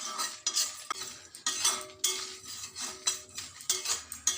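Urad dal with Byadagi and Guntur dried chillies dry roasting in a pan, heard as close, rhythmic scraping and rattling of a spoon stirring against metal, with light clinks and no talking.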